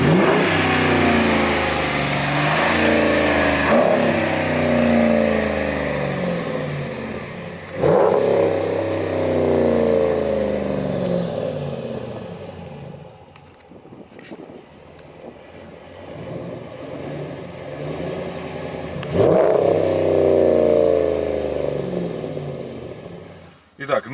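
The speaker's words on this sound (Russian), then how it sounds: "И сейчас мы хотим вам просто продемонстрировать громкость работы этого глушителя." A 2014 Dodge Ram 1500 Sport with a MagnaFlow aftermarket exhaust revs hard several times, each deep burst rising and then falling back to a rumbling idle between pulls.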